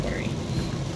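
Rain falls steadily on a car being driven to work, a dense close patter with a low rumbling road or weather undertone throughout a brief moment.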